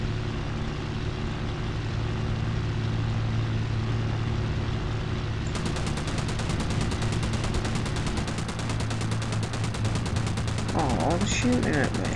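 Rapid machine gun fire in the naval combat game Battle Station Pacific bursts in halfway through, a dense, steady rattle over a constant low engine drone.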